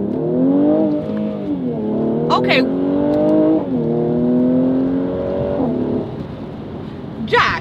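A Mercedes AMG accelerating on a test drive, its engine note rising through gear changes with loud, close revs heard from inside the cabin while a person speaks briefly.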